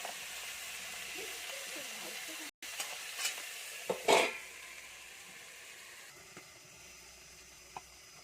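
Cut eggplant and potato fry in oil while being stirred, a steady hissing sizzle with a burst of louder scraping and bubbling midway, then quieter frying with an occasional faint tap.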